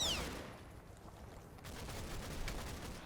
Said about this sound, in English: 1, 2, 3 different machine guns, I think